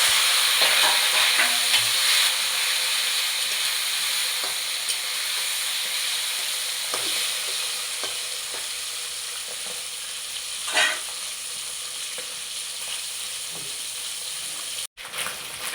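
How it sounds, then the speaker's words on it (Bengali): Jiyel fish (stinging catfish) frying in hot oil, a loud, continuous close-up sizzle and hiss that rises in brief surges, with a few soft utensil knocks and no voices. "এবার আমি মাছগুলো ভেজে নেব।"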